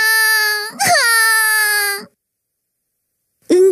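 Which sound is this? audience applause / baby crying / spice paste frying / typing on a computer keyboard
baby crying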